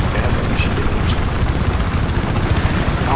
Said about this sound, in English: I don't have anything that can touch this chopper.